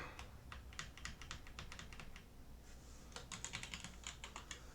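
Close, quiet typing on a computer keyboard, with rapid key clicks in steady runs and a brief pause before a denser flurry of strokes.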